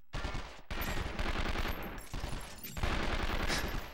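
Dense, relentless automatic gunfire from an action game set in the world of 24, sustained bursts almost without pause for four seconds, loud and close, with only a brief gap early on.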